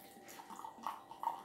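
Cold cola poured into a glass: a brief, soft splashing trickle with light fizzing, quiet and close, with no talking.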